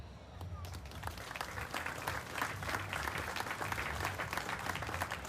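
Audience applause fills a large hall at a state fair gathering honoring FFA legends, steady dense clapping sustained throughout with a faint murmur of voices beneath.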